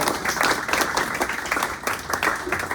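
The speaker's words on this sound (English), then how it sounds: "Let's keep the applause going for Avni." Bookstore poetry reading listeners keep up a lively round of clapping, close and fairly loud, individual hand claps standing out in an uneven patter, with a hint of voices underneath.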